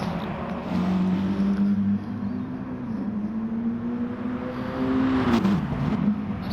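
A race car in a sim racing game builds speed with a steady, droning engine note that rises gradually and then dips briefly as it shifts, heard at a moderate level with no talking.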